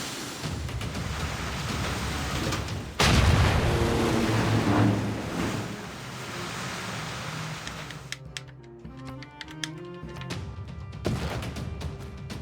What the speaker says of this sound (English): Let's go ahead and sink this battleship.